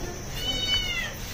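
A cat gives a single short meow in a home garden where a cobra is present, faint and partly lost in steady background noise.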